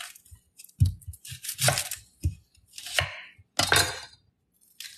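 A kitchen knife chops an onion for coleslaw on a cutting board in a series of sharp, close, irregular knocks and crunchy cuts with quiet gaps between.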